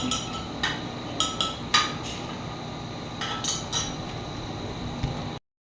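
A utensil stirs a mixture in a container for pig semen preparation, giving a few sharp clinks and taps against the sides over a low steady background hum.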